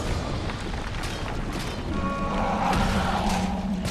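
A fire-breathing creature attacks in the fantasy battle game Battle for Middle Earth 2, a loud continuous roaring blast of flame and rumble that swells slightly in the second half, with faint tones layered underneath.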